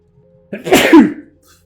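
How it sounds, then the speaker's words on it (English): A single loud close sneeze from one person, sharp and brief after a short quiet lead-in, with no other sound around it. "Second I get to a bit of fighting stuff, I sneeze."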